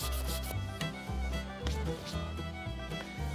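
A wooden axe handle is sanded smooth by hand with quick, steady back-and-forth strokes. The rasping is close but fairly quiet, and no one talks.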